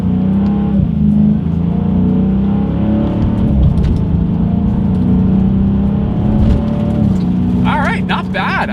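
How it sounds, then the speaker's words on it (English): A 2020 Dodge Challenger R/T Scat Pack engine roars loudly and steadily as the car accelerates hard, its pitch climbing and dropping with quick paddle-shifted gear changes, heard close from inside the car. "let's test out the paddle shifters of this 2020 Dodge Challenger Scat Pack"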